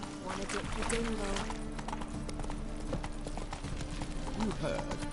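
Horse hooves galloping in The Witcher 3, a rapid, steady clip-clop rhythm close by with a brief whinny, under game voices and background music.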